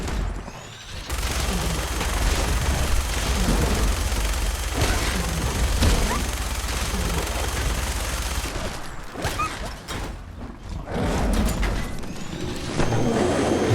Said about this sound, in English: Decides he should try out this minigun.